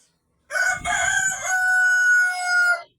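Rhode Island chickens squabbling as a rooster lets out one loud, close cock-a-doodle-doo crow that lasts a couple of seconds.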